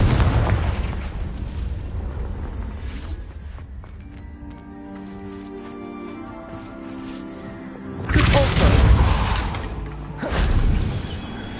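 Confringo explosion spell cast in a Harry Potter video game: loud broadband blasts burst at the start, fade into sustained musical tones, then erupt again twice near the end.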